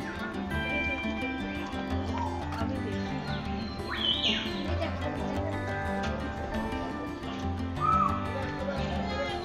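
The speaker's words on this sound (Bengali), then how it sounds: "শুধু পাখির ডাক" Birds calling in the hillside Darjeeling zoo: a few short chirps and whistles ring out at intervals over a murmuring, low background with some voices.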